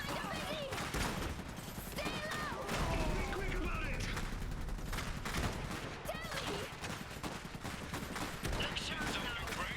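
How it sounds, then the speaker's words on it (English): Dense gunfire and machine-gun bursts in the Iron Harvest strategy game, a continuous battlefield barrage with shots layered over music and effects, no pause across the stretch. "We're taking fire!"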